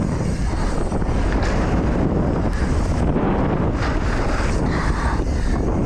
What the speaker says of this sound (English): I get blown by the wind